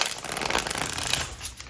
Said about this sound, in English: I'm a sucker for decks that shuffle nicely.